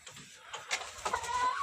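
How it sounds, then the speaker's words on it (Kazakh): Kuchinsky, domestic and Brahma chickens cluck in a coop, several soft calls overlapping at close range with no talk. "Мұнда кучинский, ар жақта домашний тауықтар, брама бар."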